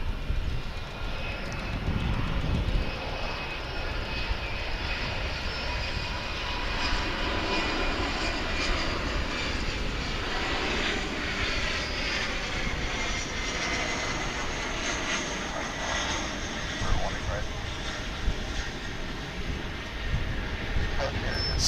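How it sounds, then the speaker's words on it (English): A SkyWest Airlines jet at Dallas/Fort Worth International Airport produces a loud, continuous engine roar with broadband rushing noise that holds steady throughout the clip. "SkyWest Airlines coming in from Roswell, New Mexico there."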